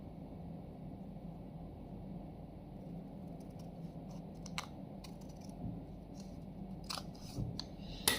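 Scissors cut a paper triangle in half along its diagonal during a maths lesson, giving soft, close snips and rustles over a steady low room hum, with a few crisper cuts toward the end.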